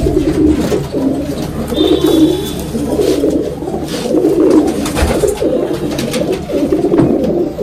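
Pigeons coo steadily inside a loft of small compartments where the birds' wings are clipped, with overlapping low throaty calls repeating throughout, close and fairly loud with no speech.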